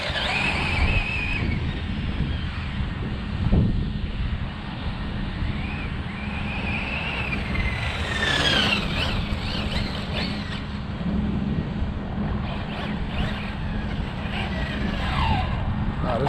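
Losi 8ight-E 4S electric RC car with fresh diff fluids and a 20T pinion, running outdoors with a steady rushing whine and tire noise, occasional higher motor sweeps rising and falling as it rips around, continuous and fairly loud throughout.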